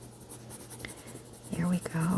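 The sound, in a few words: pencil drawing a sunflower on paper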